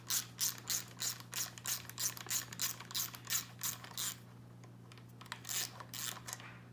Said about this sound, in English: For now, I will be removing it with the socket.